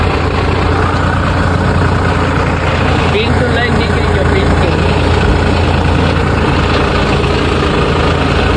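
A tractor engine runs steadily nearby with a loud, constant low rumble throughout, while a voice speaks briefly over it.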